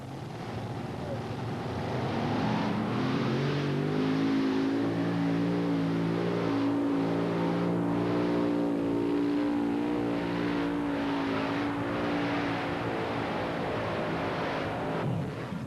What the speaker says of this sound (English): see John Powell from Apex, North Carolina, come to the starting line with a Rolling Thunder tractor